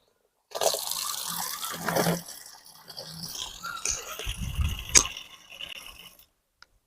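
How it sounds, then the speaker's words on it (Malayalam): About one litre of water poured into a container for making fish amino acid fertiliser, heard as a close, continuous splashing, gurgling fill that rises and falls, with no talk. "ഇതിനകത്ത് ഇനി ഒരു ലിറ്റർ വെള്ളം ഒഴിക്കണം"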